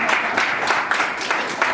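An audience applauding board members being introduced at a community event, a steady wash of dense clapping with irregular bursts, fairly loud and close, with no voices rising above it.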